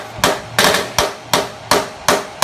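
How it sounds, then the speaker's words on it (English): Seven sharp gunshots ring out at a steady rhythm, each a loud crack with a short decaying tail, fairly close and with no talking. "You don't hear these gunshots?"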